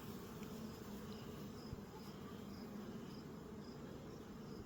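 A low, steady drone of many honeybees buzzing together, quiet and continuous, with a faint high ringing tone above it.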